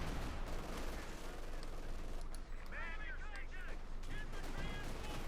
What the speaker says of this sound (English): Machine gun covering.